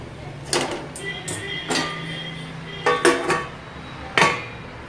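Metal lid set down on a pan of aval sundal cooking on the stove, sharp clanks and clatters in several distinct bursts, loud and close against a quiet kitchen background.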